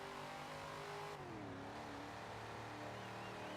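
A track car engine revs hard toward about 6,000 RPM, a loud sustained drone whose pitch dips with a gear change, then climbs steadily again with no talking.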